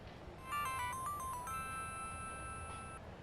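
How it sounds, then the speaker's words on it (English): A phone rings unanswered, a melodic electronic ringtone of stepped tones followed by a long held chime, fairly faint over a steady background hiss. "Not going to answer her phone?"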